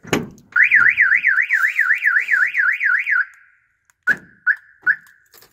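A cheap aftermarket car alarm fitted to a 1967 turbo Camaro answers a key fob unlock with a loud warbling siren lasting about three seconds, then three short chirps close by.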